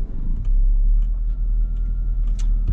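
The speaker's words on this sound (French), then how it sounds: "le bruit très particulier de ce moteur Cléon, reconnaissable entre tous" A 1993 Renault Twingo's 1.2-litre Cléon engine rumbles low and steady from inside the car while driving, with faint road noise and small clicks, no speech.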